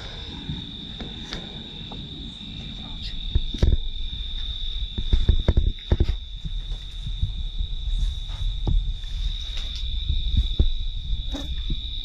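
Insects chirp in a continuous high, shrill drone at night, steady and fairly loud, with scattered low thumps and rustles nearby and no talking.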